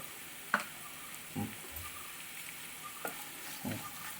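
Two medium onions, finely chopped, sauté in a pan for a soya chunk roast, giving a steady soft sizzle broken by several scraping stirs and light utensil knocks, with no talk.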